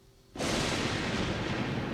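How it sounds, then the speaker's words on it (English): Thunder after a lightning flash in a cartoon storm breaks as a sudden loud boom and then rolls on as a sustained, heavy rumble for nearly two seconds. "Then when the thunder booms, we stop."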